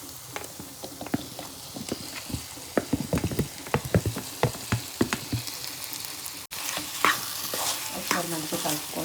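Boiled colocasia is stirred into masala frying in oil, with a steady run of scraping, clacking spoon strokes over a constant sizzle that swells louder near the end.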